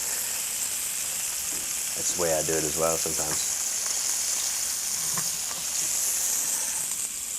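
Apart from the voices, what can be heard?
pork medallions pan frying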